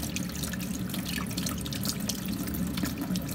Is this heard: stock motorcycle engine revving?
no